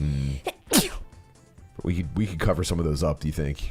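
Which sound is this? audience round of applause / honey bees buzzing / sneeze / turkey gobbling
sneeze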